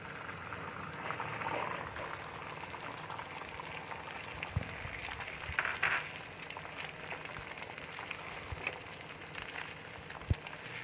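Egg for an Afghani omelette fries in hot oil, giving a quiet, continuous bubbling crackle with scattered small pops and ticks, heard close but faint.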